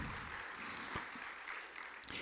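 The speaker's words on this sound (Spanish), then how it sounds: "Dale fuerte un aplauso de gratitud al Señor." A church congregation applauds in gratitude during a sermon, a steady moderate wash of clapping that holds evenly throughout.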